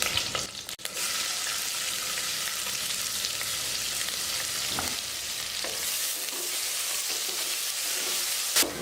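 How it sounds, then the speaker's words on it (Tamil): Onions frying in hot oil with cinnamon, cloves, star anise and curry leaves, giving a steady, close crackling sizzle with occasional stirring scrapes, briefly dipping near the start and carrying on without any voices. "வெங்காயத்தை பொன்னிறமாக வதக்கியாச்சு."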